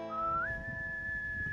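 A single person whistles a short melodic line alone, a clear sustained tone that slides upward and then holds steady, close and fairly quiet.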